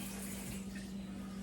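Hands being washed under a running kitchen tap, a short, steady, soft stream of water with a low hum beneath it.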